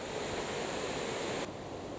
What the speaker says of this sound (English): On our right hand side we've got the weir.